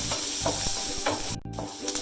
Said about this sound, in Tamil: இந்த வெங்காயம், மிளகாய், கருவேப்பிலை எல்லாம் போட்டு கொஞ்சம் வதக்கலாம்